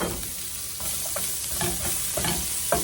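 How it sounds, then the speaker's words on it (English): Sliced onions and peppers sizzle steadily in a hot pan with a constant frying hiss, broken by soft scraping stirs, close and without voices. "we got to saute our onions and peppers and stuff"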